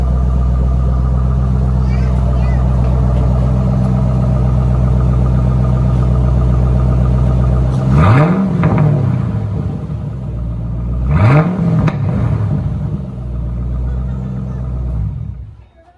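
Ford Mustang S197 with an axle-back exhaust idles with a deep rumble, then gets two quick revs that swell and fall back, close and loud.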